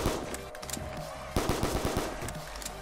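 Rapid bursts of video game gunfire from a Call of Duty custom zombies map crack out close and loud, with a tight run of shots in the second half.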